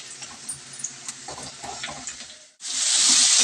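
Chopped onions fry in a pan until lightly browned, giving an uneven crackling sizzle with stirring scrapes, then a sudden much louder, steady hiss as tomatoes are added to the hot pan.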